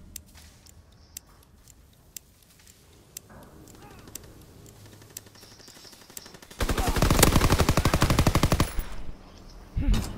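Automatic gunfire in the World War II shooter Call of Duty: WWII: quiet game ambience gives way to a loud, sustained burst of rapid shots near the end, then a second short burst.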